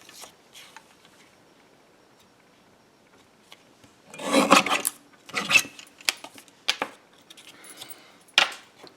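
Strip of card stock cut on a paper trimmer: a few short scraping, rasping slices in a quiet room, one longer swipe followed by several brief rubs and a final crisp cut.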